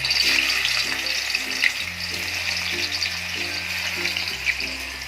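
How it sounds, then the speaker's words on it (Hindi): Chopped arbi (taro) leaves lightly frying in a pan, a steady hiss and sizzle that runs throughout, with a low musical hum beneath it. "थोड़े हल्का हल्का फ्राई कर लेंगे"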